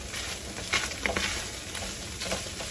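Food sizzles steadily in a pan over medium heat, with a few soft scraping taps from stirring scattered through the close, moderate frying hiss.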